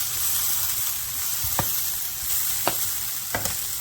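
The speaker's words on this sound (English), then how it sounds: "This is the difficult part of making hash browns, guys, is flipping them" Scattered hash browns fry on a hot griddle with a constant, fairly loud hiss, while several short spatula scrapes and knocks mark the flipping.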